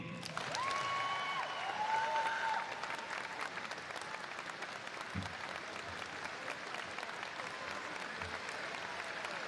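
A graduating class is applauded at a high school commencement, with sustained crowd clapping filling the hall at steady loudness, a few whistle-like tones rising early on.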